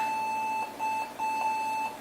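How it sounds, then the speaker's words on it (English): A Macintosh Performa 640CD booting into its DOS-compatible PC mode gives a steady, piercing electronic startup beep that drops out briefly twice before resuming, sounding much like an error tone. "I love how that beep sounds like a failure beep"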